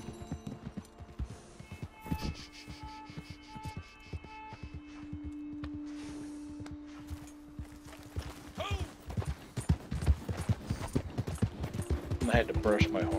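Horse hooves clip-clop in a steady walking rhythm in a video game, growing louder and busier toward the end, over a faint background hum.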